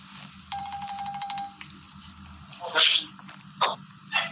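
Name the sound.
telephone ringing for a call-in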